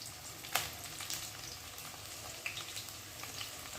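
Dried red chillies and onions frying in hot oil in a pan: soft, steady sizzling with light crackles and a few stirring scrapes, quiet and close, with no talking.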